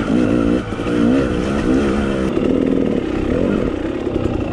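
A 2019 KTM 300 XCW TPI two-stroke dirt bike is ridden on mountain single track in Idaho, its engine buzzing loudly and steadily throughout, with rising and falling revs and a brief dip near the start.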